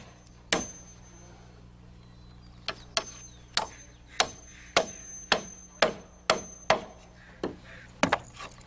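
A hammer drives nails into a wooden block fitted between roof rafters on a timber-frame house roof, with about a dozen sharp, close, evenly spaced blows separated by a short pause, and no talk.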